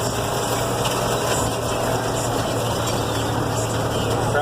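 A tractor engine drones steadily while pulling a seed drill planting soybeans in a field, a loud continuous rumble with a whiny mechanical edge, close and unbroken.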